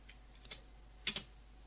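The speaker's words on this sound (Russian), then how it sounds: "Нажимаю пробел." A few soft clicks of a computer keyboard's spacebar, faint and close, in a quiet room with a steady low hum behind.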